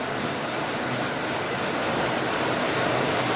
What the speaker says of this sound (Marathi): पाऊस बाहेर चालू झालाय